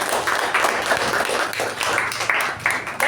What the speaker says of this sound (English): please give a huge round of applause for our acting sergeant at arms